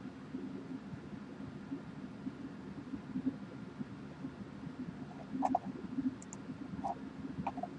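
A computer mouse double-clicks, giving faint, quick paired clicks late in an otherwise quiet stretch over a low steady hum.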